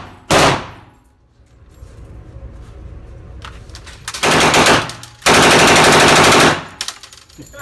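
A WWII Thompson submachine gun fires at a range, first a short shot, then two loud, sustained automatic bursts close by, with quiet handling sounds in between.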